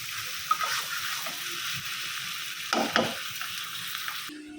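A tempering of garlic, chili and lemon leaves fries for a curry, giving a steady broadband sizzle that is moderately loud and close. Brief scraping stir sounds rise at intervals, and no one speaks.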